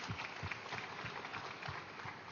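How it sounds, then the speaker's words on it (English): An audience claps during a spiritual wisdom session in a pyramid meditation hall, a soft, distant patter of hands with faint room noise underneath. "let's give a big clap to him."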